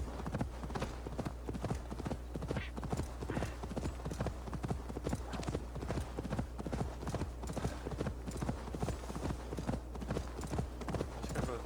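A horse's hooves clip-clop at a steady trot in Assassin's Creed Valhalla. The beat is even and continuous, sitting close in the mix over a low, constant background.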